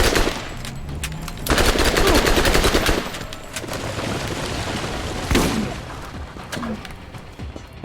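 Rapid bursts of automatic gunfire in the video game Borderlands, loud close rattling volleys in two main stretches with a single sharp shot between, fading to quieter scattered fire.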